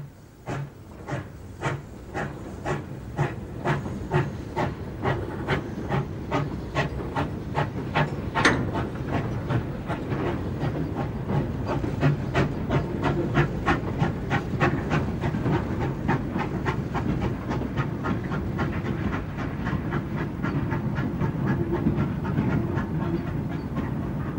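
A GWR pannier tank, an 0-6-0 steam engine, hauls a freight train on the Dart Valley Railway, its steady chuffing beats rising in pace over a continuous rumble, hiss and rhythmic clatter of wagons on the rails, with no talk.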